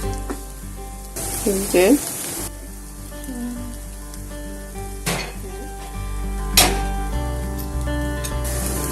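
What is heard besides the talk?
frying and stirring in a pan for fish and green bean bharta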